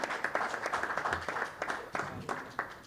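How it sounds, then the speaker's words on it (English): An audience applauds at a sports association's annual general meeting in a hotel, a thin, uneven scatter of hand claps with distinct individual hits over about three seconds. "Requesting everybody to please give a big round of applause"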